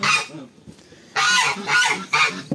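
Geese at a breeding pen, a pair sitting on a second clutch beside water, give loud, close honks in several harsh bursts separated by brief pauses.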